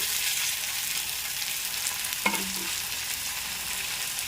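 Drumsticks and cucumber fry in a pan with a constant loud hiss. A single clack of a utensil against the pan comes midway, with a short low ring after it.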